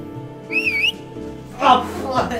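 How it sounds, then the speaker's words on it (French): A person whistles a short wavering two-tone phrase, followed by brief voices and rustling. "C'était un sifflement."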